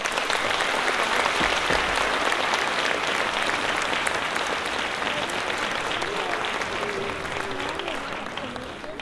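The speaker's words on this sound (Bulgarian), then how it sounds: "моля за вашите аплодисменти" An audience applauds at the opening of a children's folk ensemble Christmas concert in Bulgaria. Dense, continuous clapping fills the hall at full strength, while a few voices murmur underneath near the end.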